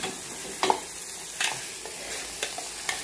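Onion, green chilli, curry leaves and coriander tempering sizzle steadily in hot oil for a tomato chutney, with a few sharper stirring scrapes of a spoon against the pan at intervals, close and alone.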